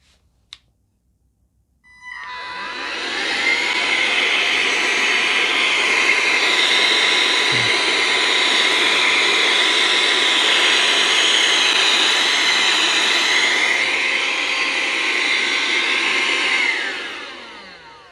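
A loud, steady high-pitched whoosh from a small wireless compressed air duster. It spins up, blows without a break for about fifteen seconds, then winds down.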